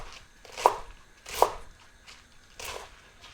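A knife slices through a bunch of greens for a Tuscan soup with crisp, evenly spaced cuts, four or five strokes in a steady rhythm, close and clear with no talking.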